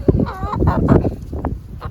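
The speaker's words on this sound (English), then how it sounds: "You see them all here right now and being noisy because they think they're getting sunflower seeds" Several chickens in a garden cluck and squawk noisily together at close range, expecting sunflower seeds, a busy overlapping chorus of bird calls.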